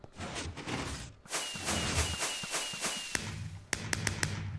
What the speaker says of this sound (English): And then dispenses fireworks.